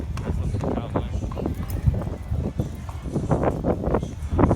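Horse hooves clip-clopping at a rodeo-style cowboy attraction, a steady run of rhythmic hoofbeats mixed with crowd noise and people talking nearby.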